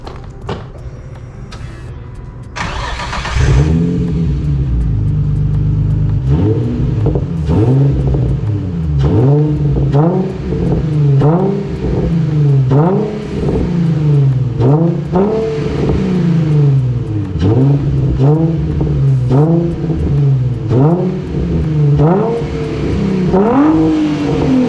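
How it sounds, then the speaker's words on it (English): A stock 2006 Nissan 350z with its muffler deleted revs repeatedly, loud and close, as a raw, raspy exhaust note rises and falls in steady blips after a short idle. "This is a muffler delete on a 2006 Nissan 350z."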